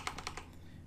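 Typing on a computer keyboard while entering IRC server details: about four quick, crisp key clicks in the first half, then a faint quiet tail.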